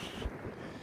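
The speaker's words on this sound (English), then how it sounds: "Dude, it is so fucking windy that I'm like legit nervous." Strong wind buffets the microphone at a wharf, a rough low rumble with gusting noise that stays fairly faint and steady through the brief moment.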